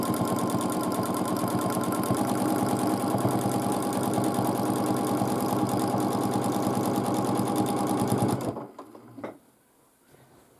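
A domestic sewing machine quilts a large quilt, its rapid needle chatter running fast and continuous for several seconds before stopping abruptly, leaving a few faint handling clicks.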